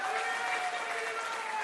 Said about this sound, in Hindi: इसके लिए कम से कम आप लोग ताली बजाइए।